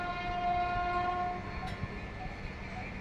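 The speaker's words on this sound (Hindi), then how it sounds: "Van new daily Amritsar Shatabdi 12013 is overtaking 12057 new daily Daulatpur Chowk Jan Shatabdi express." A WAP7 electric locomotive hauling the 12013 New Delhi–Amritsar Shatabdi Express overtakes the 12057 Jan Shatabdi Express at Bhodwal Majri, Haryana, giving a steady, loud rolling rumble with a sustained tonal drone, alone without talk.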